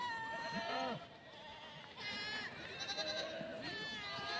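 Bleating from Himalayan Gaddi sheep, black-spotted and resting after travel in the mountains, sounds as several separate wavering calls in short bursts, clear and fairly close.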